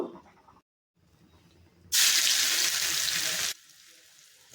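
A spoonful or two of coconut oil heats in a pan for tempering a Konkani Malabar spinach curry, a sudden loud sizzling hiss that bursts in after a quiet start and cuts off abruptly, leaving faint kitchen noise.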